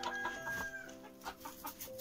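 Small chicks and hens clucking and peeping on a backyard poultry run, several short calls repeating in quick, uneven bursts close by, with no talk over them.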